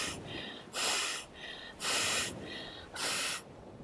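Slow, paced breaths during a guided meditation, three soft airy exhalations or inhalations about a second long each, spaced evenly and close to the microphone, with quiet room hiss between them.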